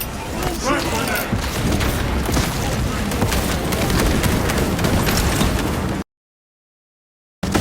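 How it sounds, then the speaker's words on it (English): A crack grenade explosion in Warhammer 40000: Space Marine 2, heavy booming blasts and gunfire in a dense, loud battle din, with combat voices, then a short silence. "Loading up. Crack grenade."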